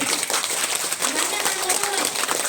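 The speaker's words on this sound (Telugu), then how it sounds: "ఒకసారి గట్టిగా క్లాప్స్ కొడతాం." Audience clapping loudly at a Pyramid Spiritual meditation week gathering, a dense, sustained wash of many hands applauding close and loud throughout the short stretch.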